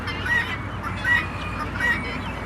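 Farm ducks calling in a calm yard: three short, nasal quacks spaced almost evenly apart, moderately close, over a low background murmur.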